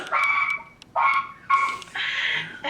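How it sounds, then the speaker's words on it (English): A dog barks in the background, giving several loud, drawn-out barks or yelps in a row, each lasting a fraction of a second with short gaps between them, and no one talking. "I've been waiting for her dog to bark behind the scenes for so long."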